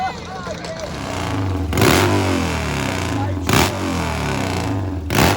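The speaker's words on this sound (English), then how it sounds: "Can anyone cool off this red-hot motorcycle?" A nitro Triumph drag-racing motorcycle at a drag strip, its engine roaring loud and steady with sharp revving bursts, while an announcer talks over it.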